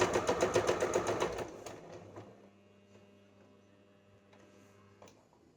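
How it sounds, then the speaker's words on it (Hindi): A sewing machine stitching a decorative latkan tassel for a blouse or suit, a fast rhythmic run of close mechanical stitches for about two seconds that then stops, leaving a faint hum and a few small clicks. "अब चलिए हम इसकी स्टिचिंग कर लेते हैं।"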